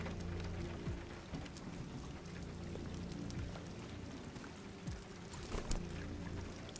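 Rain falls steadily in the video game Detroit: Become Human, a dense, even hiss of drops spattering on surfaces, with a few louder splashes and no talk.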